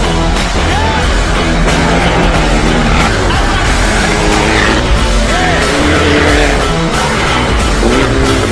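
A Volkswagen Golf Proto rally car runs in testing, its engine roaring loud and continuous with rising and falling revs through the gears and faint tire noise.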